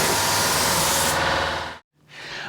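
A paint spray gun lays a coat on the door of a 1953 GMC truck in a garage, a loud close continuous hiss that cuts off abruptly, pauses, then resumes.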